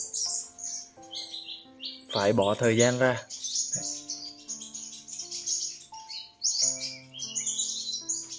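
A sunbird being hand-tamed gives short, high chirps and tweets in scattered bursts close by, while a person talks over them.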